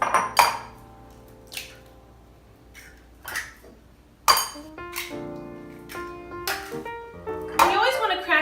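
Three eggs cracked against the rim of a bowl holding yogurt, sugar and vanilla, giving a series of sharp clinking taps spaced several seconds apart, close and fairly loud, ending in a brief scrape and clatter.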